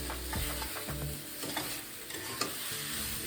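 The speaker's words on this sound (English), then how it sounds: "Keep stirring everything." Vegetables stir-fried with light soy sauce for Cantonese-style crispy noodles, with steady sizzling and the scrape and clatter of a utensil stirring in the pan, close and continuous.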